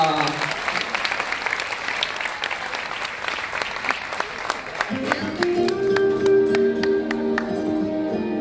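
A crowd gives a performer warm sustained applause, which fades as a band strikes up the opening of a song.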